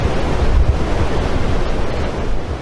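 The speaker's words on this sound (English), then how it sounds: "winds drove waves against the shore." Wind-driven waves crash against the shore in the Niagara area of Wainfleet during a December 2022 blizzard, a continuous loud roar of surf mixed with gusting wind and microphone rumble.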